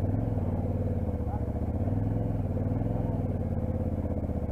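A maxitrail motorcycle engine idles and revs steadily at around 3000 rpm as the rider feathers the clutch to pull away during a riding course, a continuous close low drone with faint background voices.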